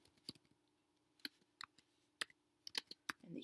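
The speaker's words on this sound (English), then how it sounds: "And then let's type in the day and the date" Taps on a tablet screen keyboard while entering the day and date, a sparse irregular series of soft, close clicks and taps against quiet background.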